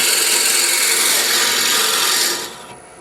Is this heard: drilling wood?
yes